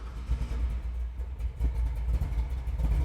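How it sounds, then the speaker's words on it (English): A 1956 Chevrolet 3100 pickup with a 496 big block V8 starts and idles, a deep loud close rumble that pulses unevenly and swells now and then, alone with no talking. "you hit the unlock button, you put your foot on the brake, it's flashing. You just hold it down and the truck starts right up."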